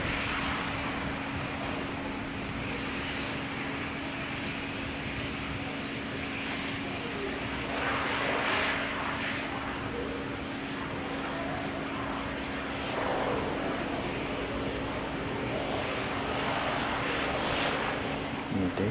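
Singapore Airlines airliner taxiing on a foggy day, a steady broad jet engine roar with a constant low hum, continuous and moderately distant, swelling slightly in places.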